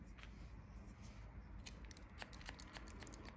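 Scissors snip repeatedly through short hair during a pixie haircut on an older woman, a quick run of crisp close metallic cuts over a steady background hiss.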